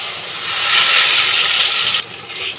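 Ground mustard paste, made beforehand, hits hot oil with nigella seeds in a pan and sizzles in a loud, steady hiss that drops off abruptly near the end.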